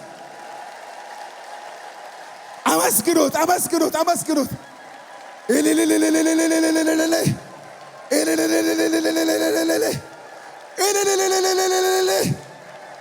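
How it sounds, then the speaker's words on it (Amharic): A church congregation at a Full Gospel service ululates in praise, four loud sustained bursts of high trilling voices, each lasting a couple of seconds with short pauses between, after a brief spoken line. "እልልታ አቅርቡለት ለእግዚአብሔር"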